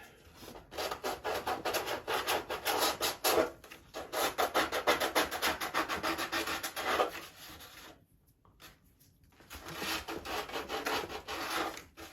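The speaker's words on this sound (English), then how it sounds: "Just smoothing off that edge." Sanding or filing smooths the edge of fiberglass work on a Top Flite .60 size Gold Edition P-40E Warhawk model plane, making rapid rhythmic rasping strokes in close, loud runs separated by a short pause.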